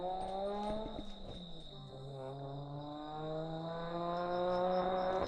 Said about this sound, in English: We've got some JZ doing skids in the background here.